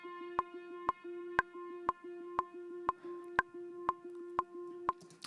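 A dry synth preset called Dancing Anvil plays a metallic, bell-like repeating note about twice a second, each strike sharp and ringing briefly with no reverb tail, quiet and alone.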